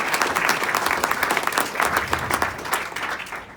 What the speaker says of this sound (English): How about a round of applause for NSU?